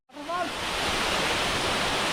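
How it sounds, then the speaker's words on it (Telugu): Sarugudu waterfall near Vizag rushes with a loud, steady broadband roar that swells in and fills the scene, with a brief voice at the very start. "సరుగుడు వాటర్ ఫాల్స్ అయితే వచ్చామండి"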